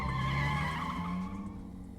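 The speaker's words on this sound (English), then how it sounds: "The sound of screeching tires echoes from among the packed cars." Car tires screech amid packed, congested traffic in the Tokyo Necro video game. A sustained, wavering squeal rings out at moderate loudness, then tapers off toward the end.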